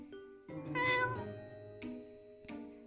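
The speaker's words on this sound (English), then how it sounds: "I sneaked up to the door and meowed softly" A cat gives a soft, drawn-out meow, followed by a couple of shorter quiet mews and small clicks, all close and faint with nothing else behind them.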